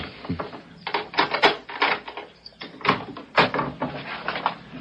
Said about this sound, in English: hold the groceries while I open the door